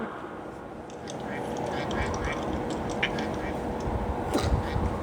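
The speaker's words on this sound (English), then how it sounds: "Look at that purple duck." Quacking from a purple duck in a Roblox obby game, repeated short calls over a steady game background with children talking throughout.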